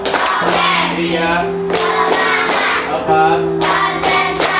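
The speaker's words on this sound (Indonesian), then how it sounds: "Dan kita tepuk siap belajar dulu ya" A class claps together in a counted rhythm during a classroom ice-breaking activity, sharp group claps landing in a regular beat over a sustained sung or hummed tone, fairly close and loud.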